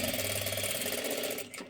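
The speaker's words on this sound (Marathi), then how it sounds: "आता ह्याच्यावरती परत एकदा डबल शिलाई देऊन घ्यावी लागते." A sewing machine runs continuously, stitching a double seam on a blouse, a close, steady rapid mechanical whirring and clatter that slows and stops near the end.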